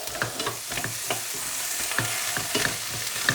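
Mixed vegetables stirred and softening in a pan for a corned beef pie, with a steady close sizzle under repeated scraping strokes of a utensil against the pan, no talking.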